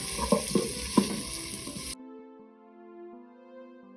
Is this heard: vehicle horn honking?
no